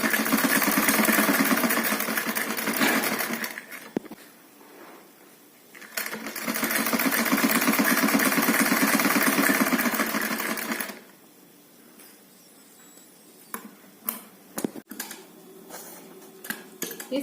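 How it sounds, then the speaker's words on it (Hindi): A sewing machine stitches piping along three sides of a kurti neck piece, running in two long steady buzzing stretches with a brief pause between, then light handling clicks and taps. "इस तरह से हमने पाइपिंग को तीनों साइड स्टिच कर लिया है।"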